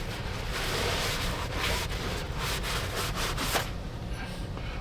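Fine honing stones scrub back and forth inside the cylinder bore of a Cub Cadet 582 engine, a steady, close abrasive rasp with faint rhythmic strokes and no talking.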